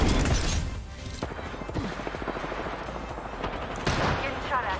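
Video game gunfire crackles in rapid bursts and scattered shots, fairly close, mixed with game effects and background noise.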